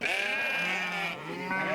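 Sheep and goats, more than a hundred crowded into a small pen under hot sun, bleating loudly and continuously in overlapping cries, close by.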